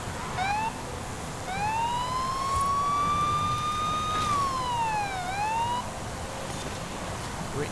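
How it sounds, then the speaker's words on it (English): A police car siren in the racing game Forza Horizon 5 wails in a long rising and falling sweep, loud and steady over the hum of the race, after a short opening whoop. "You're terminating me with your siren,"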